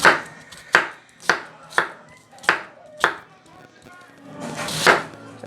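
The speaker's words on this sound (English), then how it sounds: "I tell you guys how I'm gonna cut this onion" A knife chops an onion very small on a board at night, six sharp, evenly spaced close chops followed by a softer scraping sweep, with no talking.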